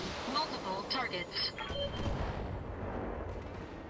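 Mech weapons firing during a turn-based Battletech battle against a Black Knight mech, a continuous heavy roar of explosive, crackling weapon fire that stays loud and dense across the whole moment.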